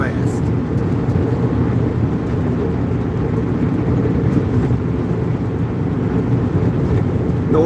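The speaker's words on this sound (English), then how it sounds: "I am driving a big truck" A big truck driving on the road, a steady low engine rumble and road drone from inside the cab, continuous and loud with no break.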